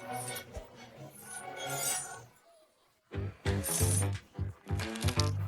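Gold-foil chocolate coins clink and rattle in several bright metallic bursts, close and fairly loud, with a short quiet gap partway through.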